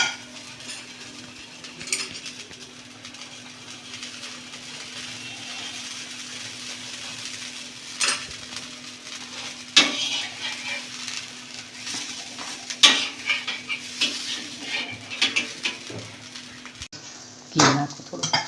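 Puran poli flatbread cooks on a pan and is turned over, with a faint steady sizzle beneath scattered scrapes and metallic taps from the spatula, a few louder clanks near the end.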